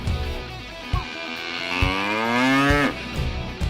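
A cow lets out one long, loud, drawn-out moo with a rising and falling pitch, heard nearby, with a few dull knocks before and after.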